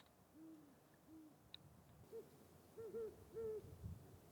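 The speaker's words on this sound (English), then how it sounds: "I know you've all heard owls before, but there he is. There's two of them back and forth tonight." Two owls hoot back and forth at night in a camp setting, soft drawn-out calls alternating at a distance, faint but clear against quiet background noise.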